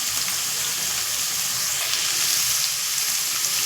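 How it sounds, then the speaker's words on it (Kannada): Onions fry in hot oil in a pan for simple fried rice, a steady bright sizzle and crackle running continuously with no voices. "ಈರುಳ್ಳಿ ಗೋಲ್ಡನ್ ಬ್ರೌನ್ ಆಗೋವರೆಗೂ ಸ್ವಲ್ಪ ಹುರ್ಕೋಬೇಕು."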